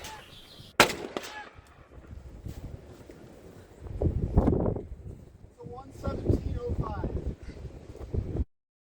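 Two rifle shots fired from the prone position on a qualification course, the first a sharp loud crack early on, the second quieter and soon buried under wind noise and someone talking.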